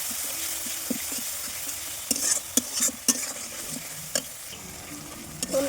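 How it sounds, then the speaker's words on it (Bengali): Onions and spice paste are stir-fried in a pan, a loud close sizzle broken by repeated scraping and clattering strokes of a spoon. "এবার এর মধ্যে মশলাটা কিন্তু দিয়ে দিলাম। এবার ভালো করে মশলাটা কষিয়ে নেব।"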